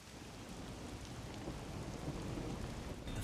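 Steady rain with a low rumble of thunder in the video game Master Detective Archives: Rain Code, soft and continuous, no voices.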